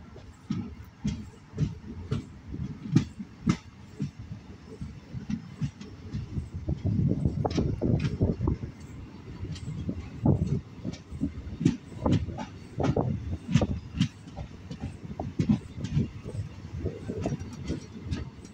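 The Tiruchendur Express train rumbles steadily along the rails toward Pollachi, with rhythmic clacking of wheels over track joints and a continuous rolling roar, no voices.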